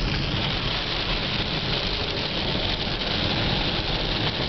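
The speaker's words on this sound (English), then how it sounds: "Probably the most rain we've ever had." Heavy rain pours steadily at a marina in a downpour, a dense, continuous broadband hiss of drops hitting surfaces, loud and close throughout, with a faint low engine rumble underneath.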